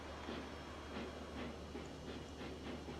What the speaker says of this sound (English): Go ahead and back our locomotive up